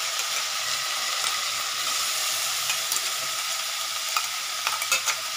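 Onion and garlic paste hits hot oil in a frying pan, giving a loud, steady sizzle with occasional stirring scrapes and small pops near the end, close up with no talking.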